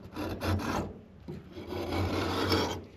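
A scraper rasps across a crusted classic Wagner Ware cast iron skillet, lifting off heavy buildup in several gritty, scratchy strokes with short pauses between them.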